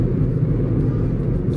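A car being driven, its steady low engine and road rumble holding at a constant level from inside the cabin, with no voices.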